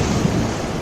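Wind and rough water churn on a dark night sea, a dense continuous rushing wash with low rumble, heard briefly and alone.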